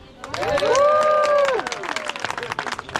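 An outdoor crowd at the Hobbiton movie set's Summer Harvest Festival claps in a scattered burst, following a loud rising-and-falling voice-like tone, with voices mixed in.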